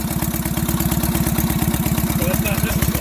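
A vintage pre-war BMW motorcycle with magneto ignition running at a fast idle, its engine pulsing in a steady, even throb with mechanical clatter, loud and close, while people talk nearby.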